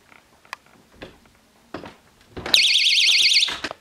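A cheap Dollar Tree magnetic door alarm goes off with a shrill, warbling electronic siren lasting about a second, preceded by clicks and door handling noises nearby.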